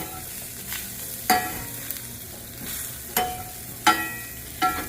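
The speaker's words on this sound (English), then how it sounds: "Just want to stir your flour around and cook it for about a minute or so." Flour being stirred into sizzling fat in a frying pan for biscuit gravy: a steady low frying hiss broken by several sharp scraping strokes of the utensil against the pan, close and alone.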